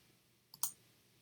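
Two quick computer mouse clicks close together, sharp and faint against a quiet background, with no talk.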